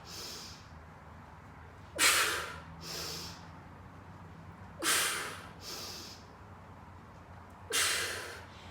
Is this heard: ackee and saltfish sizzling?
no